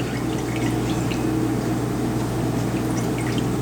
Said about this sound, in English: Now let's pour that into the waste.